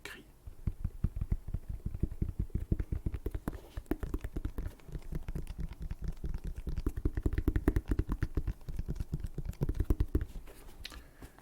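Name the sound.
tapping on Jordan 1 sneaker leather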